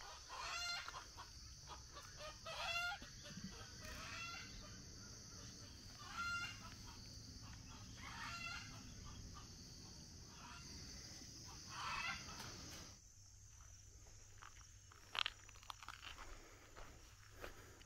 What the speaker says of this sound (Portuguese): Olha qual galinhas lindas.